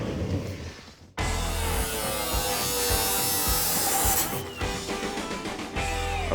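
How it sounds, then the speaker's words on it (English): A power tool cuts car floor sheet metal in a shop during a pro street Daytona build, a loud, dense grinding rasp that starts abruptly and runs nearly unbroken. "We're cutting more sheet metal."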